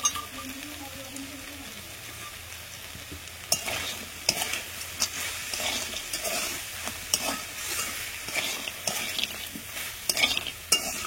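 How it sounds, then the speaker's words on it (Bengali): Pumpkin curry with vegetables cooking in a pot while bori (lentil dumplings) fry, with steady sizzling and frequent stirring scrapes that come close and loud in bursts over a continuous frying hiss. "ওইদিকে সবজি দিয়ে কুমড়োর তরকারিটা বসিয়ে দিয়েছি, একটু বড়ি ভাজাও দিলাম"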